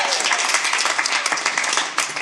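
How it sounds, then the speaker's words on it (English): A comedy club audience claps, a dense spatter of hand claps filling the room loudly and continuously with no break. "clap if you're married in here."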